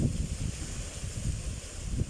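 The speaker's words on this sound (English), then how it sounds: "yeah, this is really windy, sorry about that guys" Gusty wind buffets the microphone in low rumbling waves, steady and fairly loud throughout, with no voices.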